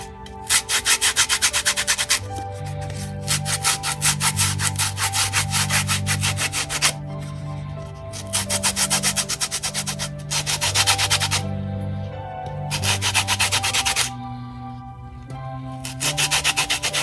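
An orange is zested against a grater in repeated rasping strokes, each burst of scraping lasting a few seconds with short pauses between, steady and close, over a soft background hum.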